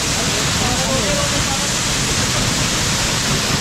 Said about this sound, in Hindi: अभी बारिश भी होने लगी, स्टार्ट हो गई है